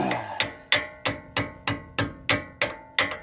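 Nine sharp metallic hammer strikes ring out at a steady, even pace, each blow clear and close with a short ringing decay.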